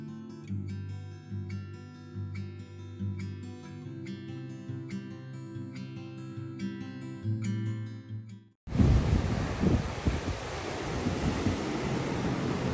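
Strong storm wind in Hammamet, Tunisia roars and buffets the microphone with a dense, rumbling noise for a few seconds, following a stretch of music.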